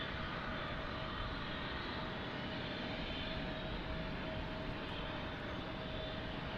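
A jet airliner departs DFW Airport at night, its engine roar a steady, moderately distant rumbling wash that stays constant throughout with no talk.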